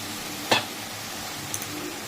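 Gurjali fish are added to a pan of spiced masala, giving a quiet ongoing sizzle with one sharp splash-and-hiss as they drop in and a few small clinks afterward, close and with no voices.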